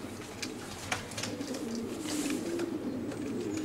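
A racing pigeon cooing close by in a loft, low soft throaty coos rolling on over a steady background hum.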